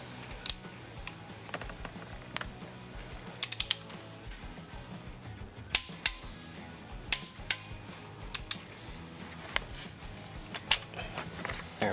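Ratchet wrench clicking as it torques a spark plug into a Mercedes M272 V6 engine, sharp clicks arriving in irregular bursts over a faint mechanical background, close and alone.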